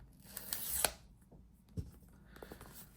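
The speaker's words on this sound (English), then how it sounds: "There's just some little paper that you can peel off" Thin protective paper peels off a Samsung Galaxy S23 FE Graphite phone box in soft, close crinkly tearing strokes, with a sharper rip near the start and quieter rustles after.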